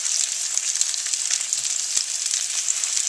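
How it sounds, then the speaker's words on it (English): Prosciutto-wrapped chicken breasts sautéing in a pan, a loud, continuous bright sizzle and crackle of hot fat with small pops throughout and no voices. "These have been sauteing for 3 minutes, so I'm going to flip them and they are nice and brown"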